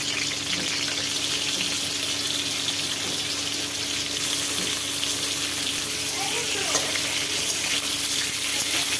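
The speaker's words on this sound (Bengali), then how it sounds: "প্রথমে আলু ভাজা হচ্ছে।" Potatoes frying in plenty of hot oil for Bengali shukto, a loud continuous sizzling hiss with crackles throughout, close up and steady, with no speech.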